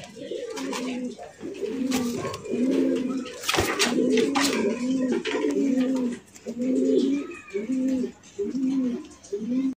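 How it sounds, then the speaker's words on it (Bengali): Madrasi Golla pigeons cooing close by, a steady run of rhythmic, throaty coos repeating every second or so, with occasional faint talk in the background. "আরো এক জোড়া মাদ্রাজি গোল্লা"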